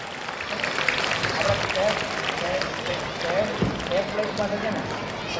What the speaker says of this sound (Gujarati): જોરદાર તાળીઓ સાથે આ કોમ્પિટિશનની શરૂઆત કરીએ આપણે.